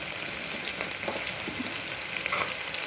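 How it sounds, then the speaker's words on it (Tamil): Onion and capsicum sautéing in oil in a pan for capsicum biryani: a steady, close sizzle with faint stirring scrapes and crackles, moderately loud and continuous, with no speech. "வெங்காயத்தை கொஞ்சம் நல்லா வதக்கிக்கோங்க. இதிலே குடமிளகாயை போட்டுக்கோங்க."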